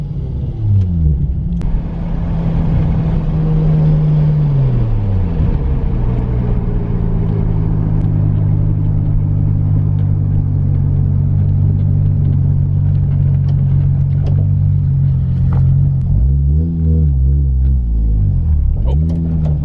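Toyota Supra fitted with a T56 Magnum transmission driving, heard from inside as a loud steady engine drone that climbs and drops with gear changes, with a renewed rev and shift near the end.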